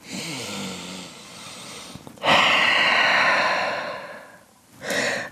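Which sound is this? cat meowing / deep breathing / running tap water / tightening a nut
deep breathing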